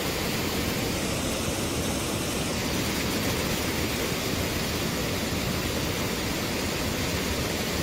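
The waterfall at Brooks Falls gives a steady, dense roar of rushing water that stays even and unbroken throughout, with no talking over it.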